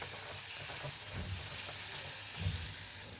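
Chopped onion fries in hot oil with salt and sugar for a chicken dish, giving a steady sizzling crackle with a couple of louder bursts of spitting, close and moderately quiet, with no voices.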